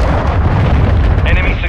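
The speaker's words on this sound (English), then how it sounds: "Hostiles launched a cruise missile." A cruise missile blast in Call of Duty: Modern Warfare II rumbles as a loud, continuous deep roar, with game voices talking over it.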